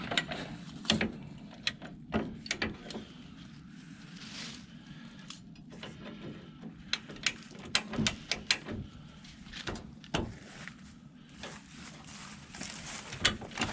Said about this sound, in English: The old man's gonna use the bumper jack again.